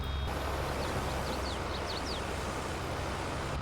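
A Krone BiG M self-propelled mower in Farming Simulator 22 gives a short series of high electronic beeps over the steady low drone of its engine.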